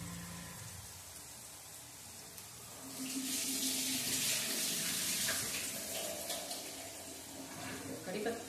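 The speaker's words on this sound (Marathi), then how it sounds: "कढीपत्ता धुवून घेतलेला आहे." A kitchen tap runs while fresh curry leaves are washed under it, a steady splashing hiss that grows louder midway and continues close by, with no talking.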